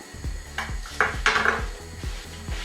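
A metal lid settles onto a full pot of diet vegetable soup with a few close clanks and scrapes, the clatter sharpest near the middle, with no talking.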